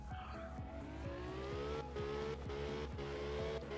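A tiny car drifting in the video game Absolute Drift: engine revs rising and falling in repeated shifts, with tire squeal through the slides, close and steady, with no speech.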